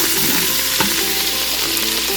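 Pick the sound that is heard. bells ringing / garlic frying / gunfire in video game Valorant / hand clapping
garlic frying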